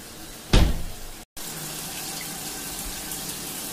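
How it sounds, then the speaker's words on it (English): Shower water sprays steadily onto a plastic storage utility box directly under the flow, a constant hiss and patter with a brief louder splash burst and a short gap before the spray resumes. "Where it's getting splashed on. So it's right under the shower flow."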